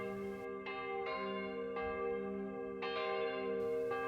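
Church bells ring out across an Icelandic town at sunset, their strokes repeating at an unhurried pace, each swelling and lingering over a sustained resonant hum, moderately distant and with no voices.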